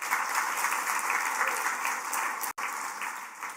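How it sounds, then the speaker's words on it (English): An audience at a cooking event gives a steady round of applause, a dense, even clatter with a brief dropout near the end. "please give a round of applause for Jordan Snitcher."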